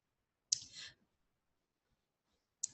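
A mouse click selects Create Assignments in a data-collection app: a sharp, close click with a brief rattle, then silence, then a second crisp click about two seconds later, faint overall and with no talking.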